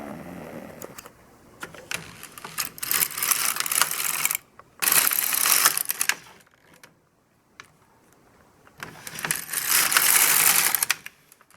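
An LK150 knitting machine carriage pushed back and forth across the needle bed, three rattling, clicking passes with short quiet pauses between rows, close and fairly loud.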